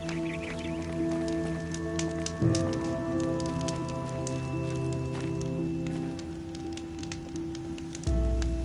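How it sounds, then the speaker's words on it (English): Steady rain falls over the open world in Horizon Zero Dawn, a constant soft patter blended with sustained game music tones, with a low rumble swelling near the end and no voices. "The rain's letting up."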